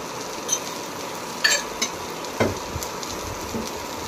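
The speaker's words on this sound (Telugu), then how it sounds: "ధనియాల పౌడర్ అన్నీ అయితే వేసుకొని లైట్ బ్రౌన్ కలర్ వచ్చేంత వరకు బాగా కలుపుతూ వేయించుకోవాలి" Onion samosa filling with chilli powder, salt and spices fries in a pan while being stirred, giving a soft continuous sizzle with occasional spatula scrapes and clicks.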